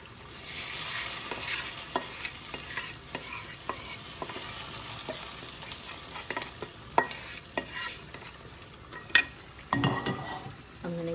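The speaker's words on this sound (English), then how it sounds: "I'm going to give it a good stir." Spoon stirring a Sri Lankan crab curry in a sizzling pan, steady frying hiss under repeated scraping and clinking strokes against the metal, close up and without talk.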